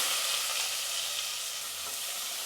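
Chopped large onion frying in a pan with curry leaves for sambar, a steady close sizzle that eases off slightly toward the end, with no voices.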